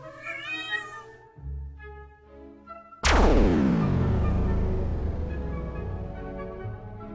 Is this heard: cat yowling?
yes